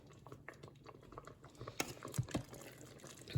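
Soft bubbling and popping from spaghetti simmering in an Instant Pot, irregular little bursts growing slightly busier, fairly quiet and close.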